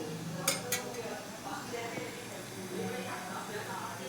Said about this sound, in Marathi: थोडे हलवून घेऊया